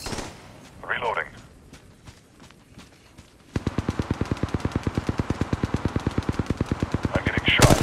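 Rapid automatic gunfire in the mobile shooter game Apex Legends Mobile, a long evenly spaced burst of sharp shots after a few scattered earlier pops and brief game voice callouts.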